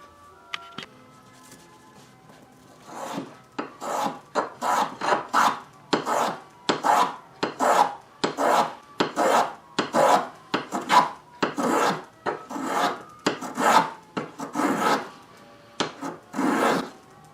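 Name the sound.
hand plane or rasp shaping wooden archtop guitar bridge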